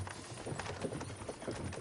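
Horses' hooves clip-clopping in the video game Kingdom Come: Deliverance II, a quick run of hoof beats heard close by with a rumbling backdrop.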